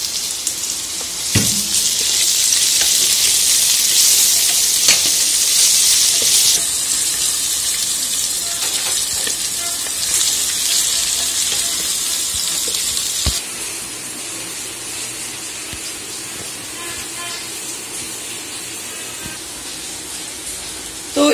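Ginger paste sizzling and hissing in a hot pan, a steady loud frying hiss that drops to a softer simmer partway through, with a few clinks.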